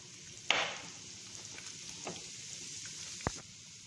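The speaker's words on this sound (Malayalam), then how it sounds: "ഈ ചൂടായ എണ്ണയിലേക്ക് കടലപ്പരിപ്പ് ഇട്ട് കൊടുക്കാം." Chana dal dropped into hot oil for a Kerala sambar gives a faint, steady sizzle. A few sharp clinks and scrapes of a utensil stand out, one near the start and one near the end.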